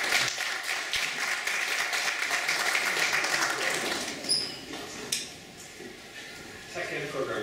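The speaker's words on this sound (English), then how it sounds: "Other round of applause for you." Audience at a school board of education meeting applauds briefly; the clapping is clear for the first few seconds, then dies away into room noise, a couple of knocks and voices.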